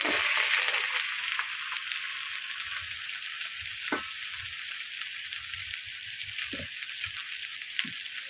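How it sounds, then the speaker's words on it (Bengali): Eggplant frying in a salted pan, a steady close sizzle throughout with occasional soft stirring knocks and scrapes. "বেগুনটা দিয়ে দিলাম"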